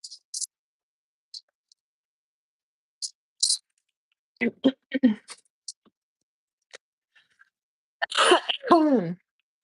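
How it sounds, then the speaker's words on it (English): A woman clears her throat, a short rough burst of a few harsh rasps, close and alone in a quiet room, set among scattered faint clicks and taps. "I always have to, like, clear my throat all the time"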